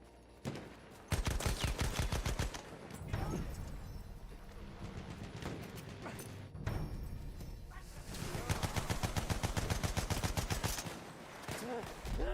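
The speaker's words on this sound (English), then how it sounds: "Feindliches MG!" An enemy machine gun fires in rapid bursts in the World War I shooter Battlefield 1, loud sustained volleys broken by short pauses.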